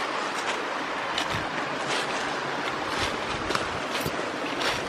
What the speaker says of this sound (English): Here it is, Stinkhorn Creek.